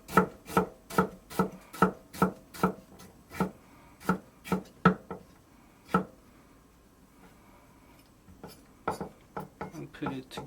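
A knife slices through an ingredient for mapo tofu on a cutting board, giving a quick series of crisp, evenly spaced chops, a pause, then a few more rapid cuts near the end. No one speaks.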